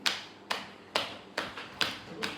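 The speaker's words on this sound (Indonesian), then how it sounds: "Nah, disuruh tepuk-tepuk begini" A patient pats the hands together during a neurological coordination test, six even, crisp taps about half a second apart, close and fairly quiet, with no voices over them.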